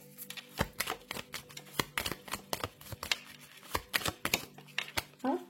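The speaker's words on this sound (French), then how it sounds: "Ça fait trop de cartes, on va remélanger." Tarot cards being shuffled by hand in a steady series of crisp riffling and slapping bursts, close and moderately loud, with a faint voice humming low beneath.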